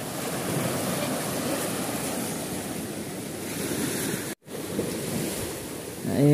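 Surf at Mehong beach on Sangihe Island washes in a constant broadband roar, mixed with wind buffeting the microphone, briefly cutting out once before resuming.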